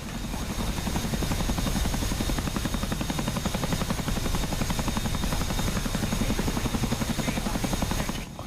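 Helicopter in the DCS World flight simulator, a loud continuous rotor thump and turbine drone heard up close and steady throughout, with no talk.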